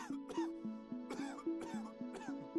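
A persistent cough comes as a series of short, sharp coughing bursts in an irregular rhythm, with throat clearing between some of them. It is close and fairly quiet, and there is no other sound.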